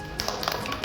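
Children in a government school classroom clap their hands in a quick burst of close, sharp claps that blur into an uneven patter.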